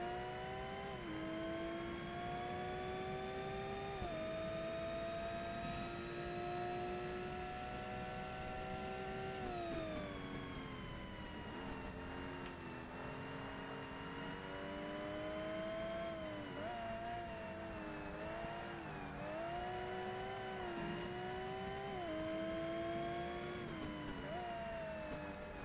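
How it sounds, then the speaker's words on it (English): A Volvo's turbocharged engine in Forza Motorsport drones steadily close behind, its pitch rising and falling with gear changes and throttle, a loud continuous whine-laden roar with no talk over it. "I can just hear the Volvo turbo behind me"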